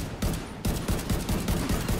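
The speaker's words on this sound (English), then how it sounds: "No, I hate the minigun, dude." A minigun fires in the Division 2 video game, a loud, rapid, continuous rattle of shots with a brief pause near the start.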